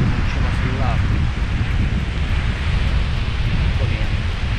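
Strong sirocco wind buffeting the microphone on a beach with seaweed, a dense continuous roar heavy in the low end, steady and loud throughout, with someone speaking over it.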